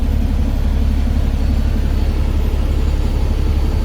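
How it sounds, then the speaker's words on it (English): A semi truck's engine idles after a remote start, a steady low diesel rumble with faint rhythmic pulsing that stays constant and loud throughout, close by. "Engine is running."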